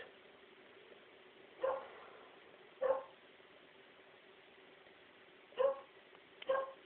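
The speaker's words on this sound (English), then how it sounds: "hey, what are you barking at?" A dog gives four sharp, distant-sounding barks, two close together, a long pause, then two more, over faint background hiss.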